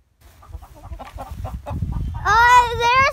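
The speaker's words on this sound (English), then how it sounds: "Yan yung mga manok, pakainin daw." Farm chickens cluck in short, soft bursts close by, followed by a louder, drawn-out squawking call near the end.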